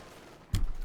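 Anti-tank gun in Company of Heroes 2 fires a single sharp, heavy shot that booms up suddenly after a quiet lead-in, its low rumble lingering briefly.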